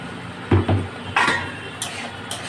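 Egg mixture with a splash of water being stirred in a pan, giving a few soft scrapes and knocks of the utensil against the metal, close by and fairly quiet, with no voices.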